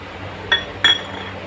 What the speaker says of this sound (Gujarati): ગેસ ચાલુ કર્યા પછી આપણે કઢાઈ મૂકીશું.